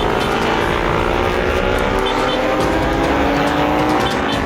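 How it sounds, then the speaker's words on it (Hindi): A cartoon motorbike roars off at speed in an animated comedy, a loud sustained engine whine that stays steady and close for several seconds. "सिपाही बाइक लेकर उछल गया।"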